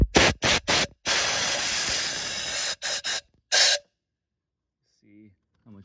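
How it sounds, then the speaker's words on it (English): Loud close bursts of compressed air blast debris out of a spark plug well on a Ford Expedition, several short hisses and one long spray, then quiet with a brief voice at the end. "got my compressed air here."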